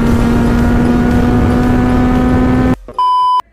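Red 2023 Kawasaki Z900 superbike with its engine running at a loud, steady high idle or rev, then abruptly cut off and followed by a short electronic beep tone.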